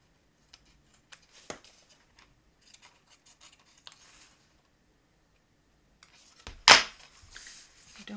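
Scissors snip off a clothing tag: scattered faint ticks and rustles of handling lead up to one sharp, close cut near the end, followed by a little light rustling.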